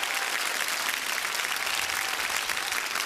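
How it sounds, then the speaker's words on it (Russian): An audience gives steady, fairly dense applause at Mir Castle in Belarus as composer Eduard Hanok comes on stage, a continuous wash of clapping with no voices over it. "Ваши аплодисменты."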